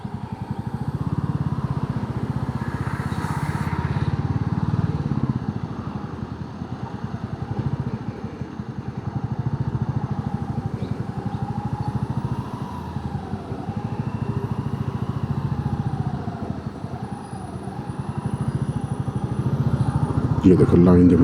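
Motorcycles weave through a traffic jam on the road to Kandaghat. The engines drone steadily at mid level throughout, with a rider's own bike close by and other traffic around, and someone talks over the noise.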